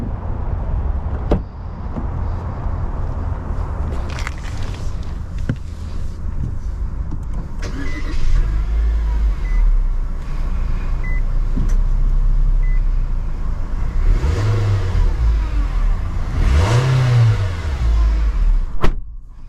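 A 2022 Nissan Kicks SV in Boulder Gray starts up and pulls away on a test drive, with a steady engine hum and road noise, then a few rising revs as it accelerates, heard from inside the cabin.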